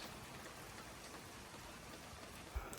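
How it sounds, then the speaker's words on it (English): Steady rain falls outside, a soft, even hiss of drops on surfaces heard from under cover, quiet and continuous, with one small thump near the end. "It's very, very nice to listen to the rain though."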